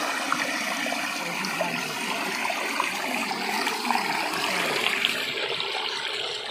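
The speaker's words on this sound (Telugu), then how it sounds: "ఎంత నీరు వస్తున్నాయి." Water pours down a forest waterfall in a steady rushing stream, moderately loud and continuous with small splashing surges.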